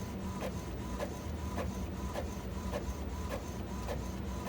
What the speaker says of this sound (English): I'm gonna hit print